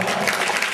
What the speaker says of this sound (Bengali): হাততালি কই?